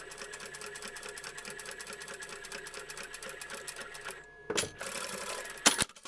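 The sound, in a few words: sewing machine stitching a double seam on a plush toy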